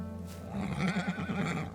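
A horse whinnies in a video game (Teardown), a wavering, trembling neigh rising out of a quiet background and fading at the end.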